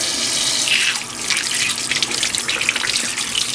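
Tap water runs steadily into a sink while facial cleanser is rinsed off a face, with splashing hands breaking up the flow throughout and no talking.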